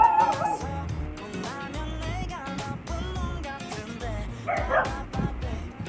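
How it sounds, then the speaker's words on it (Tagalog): Several dogs bark, yip and whimper close by in a home, a busy, overlapping run of barks lasting the whole stretch, with a voice briefly heard beneath. "Ang ingay na ng mga aso ko."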